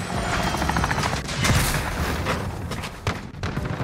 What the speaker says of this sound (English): Friendly VTOL on station for Overwatch.